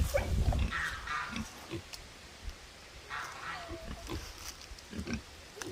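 Pigs and a boar in a small temporary pen, with grunts and snorts scattered through the clip, a few louder calls near the start and middle, and some faint talk in the background.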